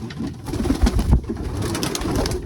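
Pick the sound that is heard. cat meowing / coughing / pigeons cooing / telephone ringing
pigeons cooing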